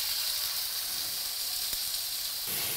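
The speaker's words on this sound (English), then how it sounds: "When you're putting these in, you wanna hear a sizzle." Sesame oil sizzles in a hot pan with a steady, bright hiss that stays loud throughout, with a brief crackle near the middle and a slightly fuller sizzle at the end.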